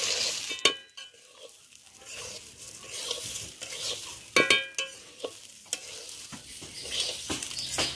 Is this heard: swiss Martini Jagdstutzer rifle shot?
no